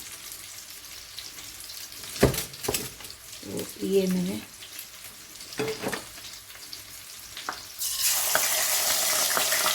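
Ginger-garlic paste fries in leftover oil in a kadhai, sizzling with stirring clatter and bursts of spatter, swelling into a steady loud hiss near the end, while a person speaks briefly over it.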